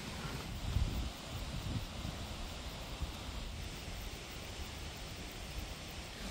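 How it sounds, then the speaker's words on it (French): A loud river flows near a waterfall in one continuous broadband rush of water, steady and fairly close, with no voices. "faut pas être sensible au bruit de la rivière parce que c'est vrai qu'on l'entend assez fort quand même."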